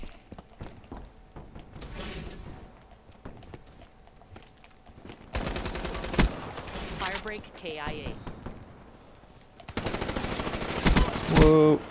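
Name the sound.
gunfire in the video game Call of Duty Black Ops 3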